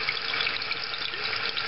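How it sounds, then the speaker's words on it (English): A toilet fill valve refills the tank during a running-toilet repair: a steady, even rush and hiss of water flowing without a break, close and moderately loud. "the water is coming out where we want it to come, and filling up the bottom out of the valve"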